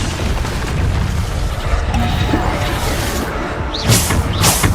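In Hogwarts Legacy, a Bombarda spell explodes with a heavy, continuous roar and rumble, and sharp whooshing bursts rise near the end.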